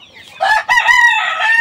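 A rooster crowing loudly and close on a large native (deshi) chicken farm in Shariatpur, one full drawn-out crow with a brief break after its opening note, over faint background sound.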